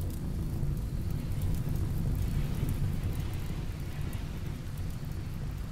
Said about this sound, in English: Rain! There we go.